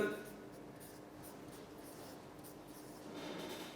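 Marker or chalk writing the topic of a secondary-school chemistry lecture on a board, a continuous soft scratching lasting several seconds, fairly faint and close, with no talk over it.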